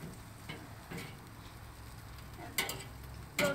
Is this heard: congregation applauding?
no